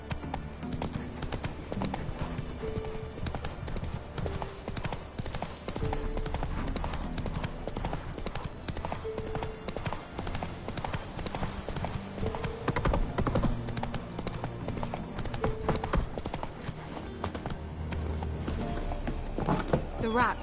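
Horse hooves clip-clop in a steady galloping rhythm beneath a dense, continuous bed of music, holding fairly level throughout with no clear pauses.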